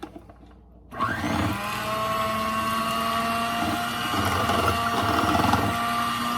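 An electric mixer starts up after about a second of near-quiet and whirs steadily through milk cupcake batter, a loud continuous motor hum with a slight rise in strain toward the end, no talking.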